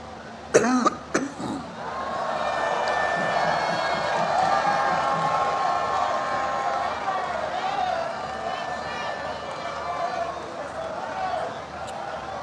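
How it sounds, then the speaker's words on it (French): A speaker at a political rally in Dabou coughs several times in quick succession near the microphone, followed by a steady crowd murmur and background noise. "Pardonnez à la toux."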